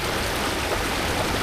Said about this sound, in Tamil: இங்கே பக்கம் ஒரு சின்ன நீரோடை, கடலோட கலக்கு